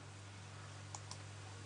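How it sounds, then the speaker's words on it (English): Two faint, quick clicks of a computer mouse's left button, spaced a fraction of a second apart, over a steady low electrical hum. "I'm going to drop another mark by clicking the left button."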